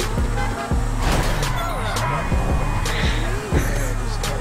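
Stolen car in a Los Santos video game drives along with an engine hum and road noise, revving in rising pulses as a person talks over it.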